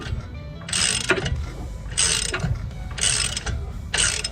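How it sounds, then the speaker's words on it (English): A ratchet wrench loosens a bolt on a Miller Trailblazer 280NT welder generator, with four rapid bursts of close, loud clicking separated by short pauses and faint mechanical knocks. "So I'm just gonna loosen it."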